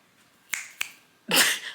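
Two crisp finger snaps a short beat apart, close and clear, followed by a louder burst of rustling noise.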